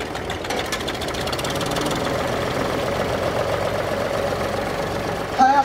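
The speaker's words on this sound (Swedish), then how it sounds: "Trecylindrig dieselmotor som går otroligt fint." A three-cylinder diesel tractor engine weighing 2460 kilo idles steadily at a tractor parade, a close, even knocking rumble that continues throughout.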